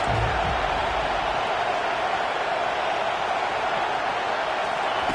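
A stadium crowd at a college football game roars steadily behind the defense on a big third down, a dense, continuous wash of cheering with no breaks.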